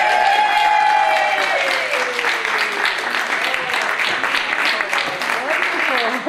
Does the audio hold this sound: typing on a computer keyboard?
no